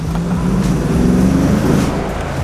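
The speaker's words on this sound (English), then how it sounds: "you definitely hear that V8 rumble" A deep, throaty V8 engine of a 2011 Mercedes G63 AMG rumbles nearby, revving slightly with a steady low growl and no talking.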